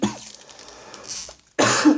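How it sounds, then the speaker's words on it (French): A single sharp cough bursts out near the end after a stretch of quiet breathing and low room noise, close and loud. "j'avais envie de tousser, fallait que ça vienne"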